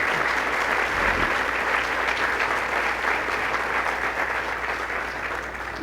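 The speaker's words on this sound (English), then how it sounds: "Big round of applause for our fantastic Dean." A steady, full round of audience applause for a dean at a dedication ceremony, continuous dense clapping that tapers off slightly toward the end.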